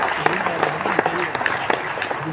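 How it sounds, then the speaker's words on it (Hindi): Seminar audience clapping in a burst of applause, with a voice talking over the broadband patter throughout. "सबके लिए ताली होना चाहिए।"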